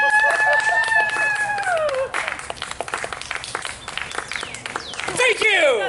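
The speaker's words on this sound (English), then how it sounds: "And the crowd went wild." A crowd cheers and applauds after a five-ball juggling act, with loud whoops, clapping and a high crowing-like yell filling the whole stretch at close range.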